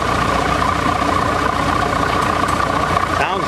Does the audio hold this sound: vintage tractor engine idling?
yes